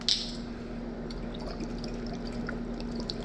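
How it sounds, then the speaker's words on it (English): Rice wine vinegar poured into a homemade salad dressing in a kitchen, a soft, steady liquid trickle and splash that begins with a brief bright splash and continues evenly under a low background hum. "I'm gonna add some rice, some of the rice wine vinegar in there now"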